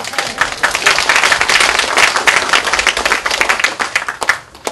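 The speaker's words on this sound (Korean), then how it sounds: "이럴 때는 박수 한번 주세요." A crowd at a party caucus meeting claps steadily and loudly, a dense burst of applause that holds for several seconds and then fades at the end.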